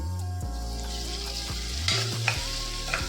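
Onions with ginger-garlic paste fry in a pan, giving a steady, close sizzle with a few brief stirring scrapes, all under continuous background music.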